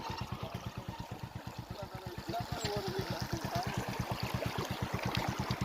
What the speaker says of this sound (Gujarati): હમણાં આગળ શરૂ કર્યું પાણી